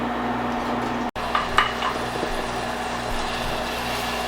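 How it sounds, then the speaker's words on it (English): Garlic chili paste sautéing with onions in a pan for chicken curry, a steady soft sizzle running throughout with a sharp utensil clack near the start and faint stirring scrapes, no talking. "I'm going to add that now to my onions that are sauteing."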